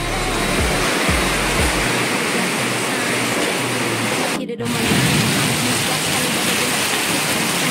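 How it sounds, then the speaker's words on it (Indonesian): Steady rain pouring down outdoors, a dense continuous hiss close and loud, with a few low thumps early on and a brief dropout midway. "Posisi sekarang lagi hujan masih ya, adem, mantap."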